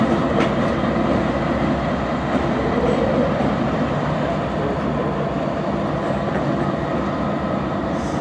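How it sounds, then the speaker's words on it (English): A big Union Pacific locomotive switching cars in a rail yard, with a steady, loud rumble and rolling wheel noise that holds constant throughout, no voices. "That is a big locomotive."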